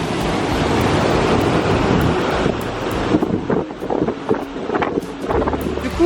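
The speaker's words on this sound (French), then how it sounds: "Bon la cascade elle est juste magnifique." A waterfall in Sri Lanka pours into a natural pool, making a loud, steady broadband roar of rushing water close by that fills the whole stretch with no talk.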